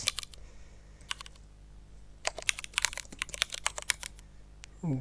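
Keys clatter on a computer keyboard as a title attribute is typed: short bursts of quick, close keystrokes separated by brief pauses, with no talking.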